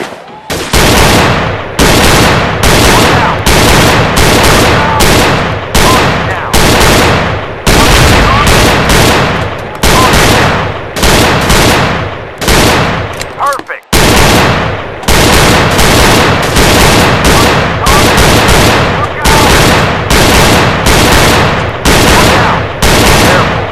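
Beretta 92F M9 pistol firing in Gun Club VR, loud sharp shots in quick regular bursts, broken by one brief pause before the rapid firing resumes.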